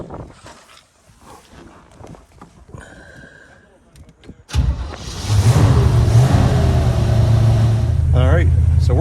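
After quieter handling noises and a brief voice, the engine of a 1950 Plymouth Deluxe left off the road for 23 years cranks and catches. It then settles into a loud, steady running rumble, close by.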